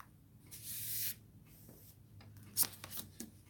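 A tarot card deck being shuffled at a table, soft papery riffles and rustles in a few short bursts, the loudest near the start, with quieter flicks and taps toward the end, close and without talk.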